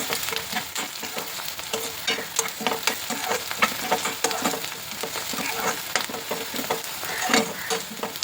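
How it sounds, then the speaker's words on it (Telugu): Paneer masala curry is stirred in a hot pan, giving a continuous loud sizzle and frying crackle with repeated scraping strokes of a spoon all the way through, and no voices over it. "మళ్ళీ ఒకసారి కలుపుకున్నామండి."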